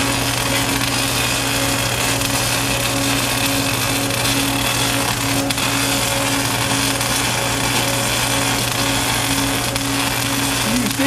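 MIG pipe welding on an R2W-3 dual bay welding system, a steady, loud continuous buzzing hiss with a constant electrical hum underneath, running unbroken with no talk.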